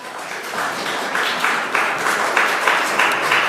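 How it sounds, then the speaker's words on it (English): Audience applause at a city planning commission meeting, a steady wash of clapping from many hands lasting throughout, fairly close and even in loudness, with no voices over it. "So please try not to applaud, okay?"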